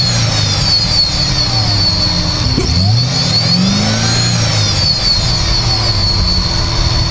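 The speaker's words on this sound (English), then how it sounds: "rev it from the inside so we can hear that supercharger" A cammed, supercharged Z06 engine with a billet lid revs up and down close by, its whine rising and falling in sweeping arcs over a constant loud mechanical drone.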